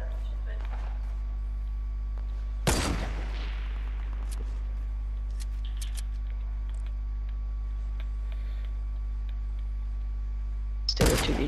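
Sniper rifle shots in Fortnite gameplay: one sharp, loud crack near the start and another at the very end, with quiet game ambience between them.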